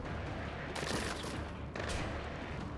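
Sustained bursts of enemy shotgun fire in Splinter Cell Blacklist, loud and close, two dense volleys of blasts with a brief lull between them and no talking.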